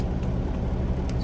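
Steady low rumble of an idling truck engine, continuous and fairly close, with a few faint higher clicks over the drone and no talk.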